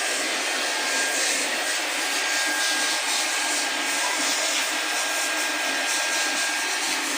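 Welding on the water inlet line of a low-cost water filter housing, a steady broadband hiss that holds evenly and fairly loud for the whole stretch with no pauses and no talk.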